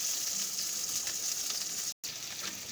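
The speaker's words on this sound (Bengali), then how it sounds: "পেঁয়াজটাকে ভালোভাবে ভেজে নেব।" Chopped raw onions fry in hot oil in a wok, giving a steady, close hiss of sizzling with no talk and one brief dropout near the end.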